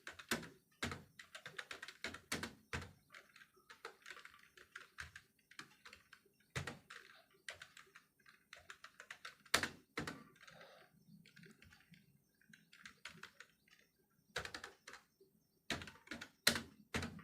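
Soft, quick keystrokes on a computer keyboard typing a name into a Microsoft Word document, arriving in irregular bursts with short pauses, close and quiet, with no voices.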